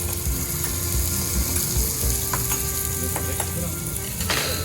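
Pork jowl sizzles steadily on a charcoal grill at a barbecue restaurant, a close, loud, even crackle with a few faint clicks and a brief scrape near the end.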